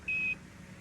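A single steady electronic alarm tone from the Apollo 11 lunar module during the 1969 lunar descent, the 1201 program alarm, sounds once for about a quarter second over a low background hiss.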